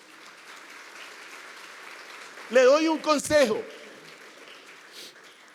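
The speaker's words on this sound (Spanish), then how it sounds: "Dele un fuerte aplauso a Jesús." A church congregation applauds during a sermon in Mexico City, a soft, distant patter of clapping running underneath as a voice briefly speaks over it.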